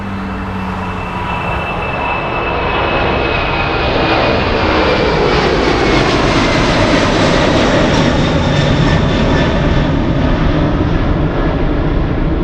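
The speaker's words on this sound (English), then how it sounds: "Wow, China Airlines cargo go around." A China Airlines cargo plane going around at Anchorage Airport on a gusty day: a loud, close jet engine roar that swells in pitch and power as the aircraft climbs away, holding steady throughout.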